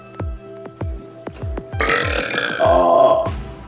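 Loud, close burps during a burping contest between friends, a series of short rhythmic belches followed by a long, drawn-out rumbling burp.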